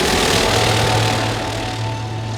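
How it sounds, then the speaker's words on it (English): A small plane's engine drones steadily near an Alaskan island, a loud, constant low rumble with a faint humming tone that holds through the moment. "As the faint rumble of our plane grows louder"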